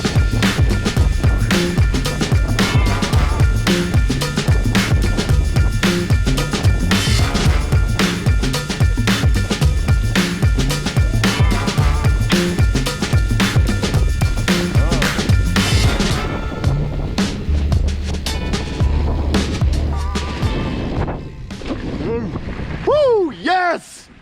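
A loaded bikepacking mountain bike speeds down a flowy dirt downhill trail on the Tahoe Twirl, with a steady loud rattling rumble and wind rush that eases into a quieter stretch near the end.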